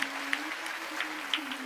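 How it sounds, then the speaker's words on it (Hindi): An audience at a Shrimad Bhagavat Katha discourse claps for the sound technician, a brief wash of dense, steady applause from a crowd. "हमारे साउंड वाले भैया के लिए ताली बजा दो"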